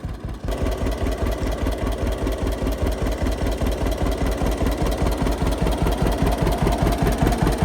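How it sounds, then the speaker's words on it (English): A late-model John Deere Model 60 tractor idling nearby, its two-cylinder engine thumping in a steady, even, low pulse after a brief quiet start, loud and alone with no talk. "Hopefully you can hear me talking over the tractor idling"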